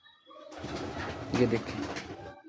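A domestic female pigeon gives a short, low coo close by, heard over a brief stretch of background noise.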